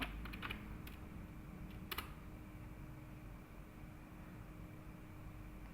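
A computer keyboard in a networking class demo, with two short bursts of key presses typing an ipconfig renew command over a steady, faint background hum.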